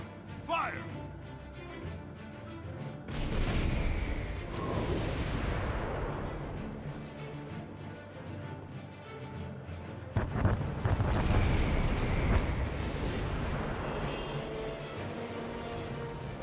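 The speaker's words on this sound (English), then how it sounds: "Mortar teams, fire at will." Mortar teams firing in Guild Wars 2, heavy booming artillery blasts in two rumbling waves with crashing debris and whistles, loud and near, while voices talk over the barrage.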